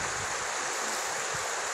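River water flows at a spring-fed spot in Calvillo, Aguascalientes, Mexico, a steady broadband rush that stays even and close throughout, with no talking.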